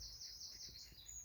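Sparrows flying overhead give high, thin chirps in a quick repeating run, faint and brief against a quiet outdoor background.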